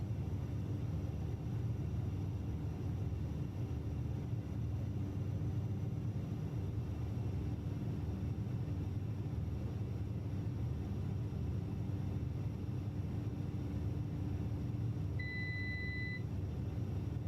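Inside a Cessna C208B turboprop in a flight simulator, a steady low propeller and engine rumble drones on unchanged, with a brief electronic beep near the end.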